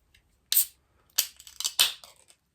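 Imperial Jakehead triple IPA from Wylam Brewery being opened and poured into a glass: a short hiss or crack, then a few bursts of fizzing, splashing pour, fairly close and with no talk.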